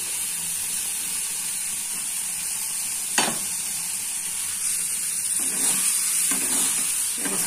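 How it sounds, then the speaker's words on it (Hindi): Ground spinach goes into a hot tempering in a pan, giving a continuous hiss of frying with a sharp clack near the middle and soft stirring scrapes later, no voices. "अब हमारा तड़का फ्राई हो गया अच्छे से, अब इसमें डाल देते हैं पालक पिसा हुआ।"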